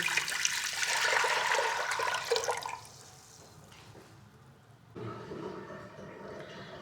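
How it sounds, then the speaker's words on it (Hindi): Water is poured from a vessel into a pot on the stove to make Kashmiri pink tea. It gives a loud, steady gush for about three seconds, goes quieter, then picks up again near the end. "सबसे पहले मैं फ्लेम ऑन करूँगी और इसमें 2 लीटर पानी का ये मैं डालूंगी।"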